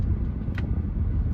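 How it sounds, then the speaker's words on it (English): A 2018 Toyota Camry XSE 2.5 cruising at highway speed over a raised railroad crossing, heard as a steady low road and engine rumble from inside the cabin with a short bump partway through. "I'm going over a tall railroad track."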